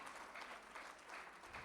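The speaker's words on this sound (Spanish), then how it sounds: "Vamos a aplaudir fuerte al Señor" A church congregation at a Peruvian conference claps together in a steady, fairly quiet wash of applause, with no voices standing out.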